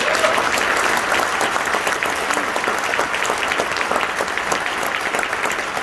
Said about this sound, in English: let's give one more round of applause for the kids on stage